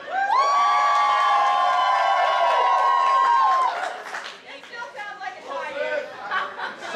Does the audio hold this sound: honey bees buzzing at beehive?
no